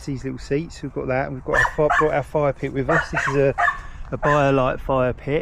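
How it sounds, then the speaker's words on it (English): Bumble the dog yips and barks repeatedly at a winter campsite in Aldeburgh, sharp bursts mixed in with a person talking nearby. "if you can hear me over Bumble's barking"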